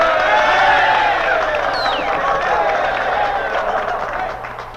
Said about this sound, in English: Listen to those students applauding your work.